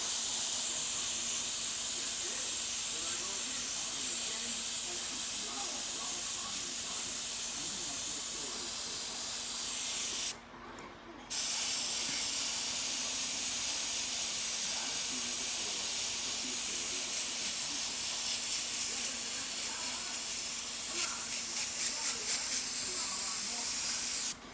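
An aerosol spray can hisses in long, loud, continuous bursts as paint is sprayed over a portrait background, with one brief pause midway before the spraying resumes.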